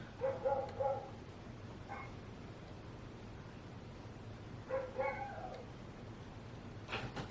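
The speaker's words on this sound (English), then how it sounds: "Oh boy, I have dogs barking." A few short bursts of dog barking, fairly distant, in two clusters separated by a quiet stretch over low background hum.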